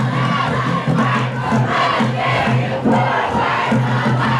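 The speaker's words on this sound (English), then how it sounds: "We got both cheer squads yelling at the same time." Two high-school cheer squads yell at once at a football game during the NHFA finals, LCA Chargers against Tomball Warriors, a loud, continuous crowd roar of chanting and shouting that fills the whole stretch.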